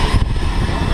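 Aircraft engine droning steadily inside a skydiving plane before a jump, a loud close low rumble filling the whole second, with a voice briefly under it.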